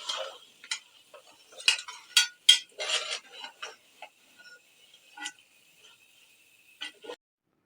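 Roasted mutton leg (raan) is dished out with utensils: scattered clinks and scrapes of metal on a plate, some in quick clusters, separated by quiet gaps.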